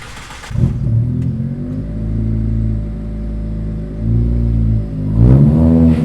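A Proton Satria with a swapped 4G92 MIVEC engine revs loudly up close, holding a steady drone that swells and drops in several rising and falling pulls, with no talking.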